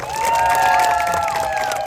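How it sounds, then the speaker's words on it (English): A street circus audience on Broadway Avenue in Saskatoon cheers and applauds a volunteer, a dense wash of clapping and shouting voices with some children's calls, loud and steady throughout. "Everyone give Kill a massive round of applause."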